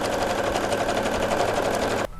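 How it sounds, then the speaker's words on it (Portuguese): A sewing machine stitching the seams of an origami fold bag, a steady fast mechanical whir with rapid needle clatter running for about two seconds before stopping abruptly. "E agora a gente vai à máquina para fechar essas partes."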